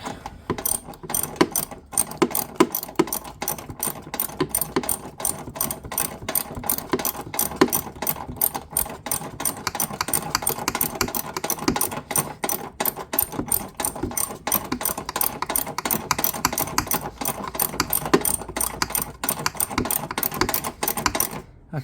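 Engine mount bolts are tightened on a passenger-side mount of a 2009 Ford Focus with a ratchet, whose rapid, close, steady clicking runs continuously for about twenty seconds with short pauses and no talking.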